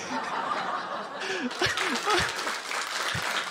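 Audience at a Polish stand-up comedy show breaks into brief applause mixed with snickers and chuckles, a close crowd patter with scattered laughs that rises mid-way and then settles.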